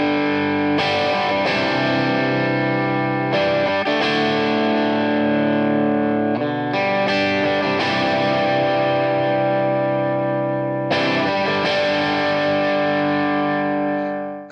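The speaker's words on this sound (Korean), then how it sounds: "약간의 조금 크런치하면서도 살짝의 드라이브감을 주면" Electric guitar through a BOSS GT-1000 CORE on a crunchy, lightly driven tone, played directly without an amp: strummed sustained chords ring out with several fresh attacks, harmonically rich and slightly distorted, loud and alone.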